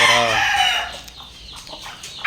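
Two- to three-week-old chicks and chickens in a pen make a loud, drawn-out call up close, then softer clucks and peeps that continue alone.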